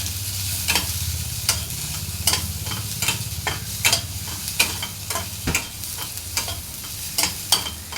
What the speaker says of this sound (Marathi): लसणाच्या 10-12 पाकळ्या, 1 इंच तुकडा आलं छान भाजून घ्यायचे.